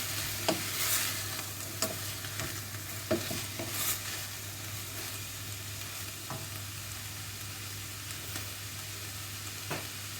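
Salsa dip ingredients with pepper being stirred in a hot pan, a soft continuous sizzle broken by scattered scraping clicks of a utensil moving through the food, with no talking.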